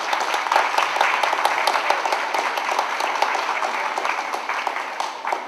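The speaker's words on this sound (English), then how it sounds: "I want to give a round of applause to all of you" Steady applause from an audience at a Mexican Heritage Center and Gallery community event in Stockton, dense clapping filling the room at a fairly even level throughout.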